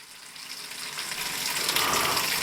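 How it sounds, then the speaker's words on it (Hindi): Water gushes from the shower outlet into the spin tub of a semi-automatic washing machine, a steady hissing splash that grows slightly louder throughout, with no voices. "यह पानी यहां से डाइवर्ट होकर के इस स्पिन वाले टब के अंदर शावर स्टार्ट हो जाते हैं और यहां से पानी गिरते हैं"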